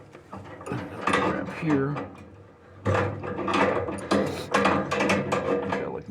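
A wrench works a fitting on a Dyna-Glo gas heater, with close metallic ratcheting, clicking and scraping in uneven bursts while someone talks briefly over it.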